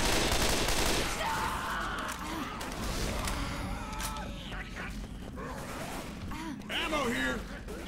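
Rapid bursts of gunfire from the video game Left 4 Dead 2 crackle continuously, mixed with game effects while players talk over them.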